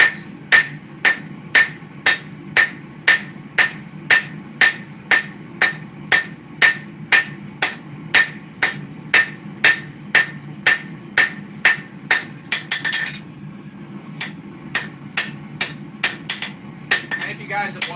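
Steady, ringing hammer blows on hot steel as a sword blade is hand-forged at an anvil, around two strikes per second for most of the stretch, briefly faltering before resuming in a quicker cluster, loud and close with a low shop hum beneath.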